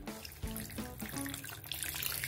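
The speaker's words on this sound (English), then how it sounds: "Just add some water to it." Water poured from a container into a pot of marinated, spiced chicken, a short close splashing pour with a broad hiss and a few clinks, no talking.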